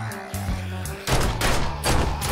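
Gunfire in the 7 Days to Die video game, a burst of loud reports heard close, with one heavy blast followed by another about a second later.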